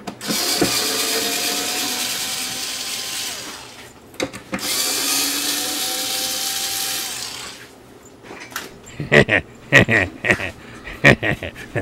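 A power screwdriver or drill removing screws from the wooden base of a Crosley record player, with two long, loud whirring runs followed by a burst of sharp clicks and clatter as parts come loose, close by and with no voices.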